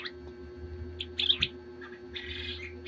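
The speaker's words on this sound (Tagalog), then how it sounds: "Ano ang huni ng ibon na yun? Pugo." Quiet quail calls, a few short chirping notes followed by a longer trilled call, over a low steady hum.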